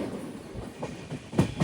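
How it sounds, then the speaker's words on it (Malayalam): Tata Nagar Express rolling into Katpadi Junction, a low running rumble of rail cars with a few soft wheel clacks rising toward the end, fairly quiet and close. "ട്രെയിൻ ഇപ്പോൾ കാട്ട്പാടി ജംഗ്ഷനിലേക്ക് എത്തി"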